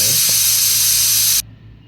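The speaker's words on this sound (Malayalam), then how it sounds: "കുക്കറിൽ 2 വിസിൽ വന്നതിന് ശേഷം" A kitchen pressure cooker cooking Tamil-style milk pongal lets off a loud, steady whistling hiss of escaping steam that cuts off abruptly, leaving a quiet room hum.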